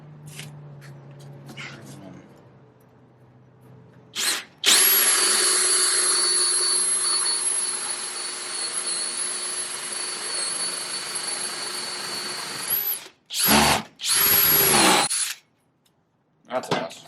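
A power drill starts in short bursts, then runs steadily at high speed for several seconds boring through a rocket-propelled Nerf dart part, whining loudly up close before stopping and restarting briefly.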